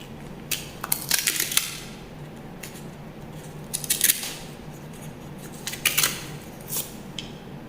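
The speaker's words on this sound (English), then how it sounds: "So that is how you're going to cut out the paper." Paper pattern for a Bubu kaftan being cut with scissors and a seam ripper, heard as short bursts of crisp snipping and rustling scattered across a quiet room, with no talking.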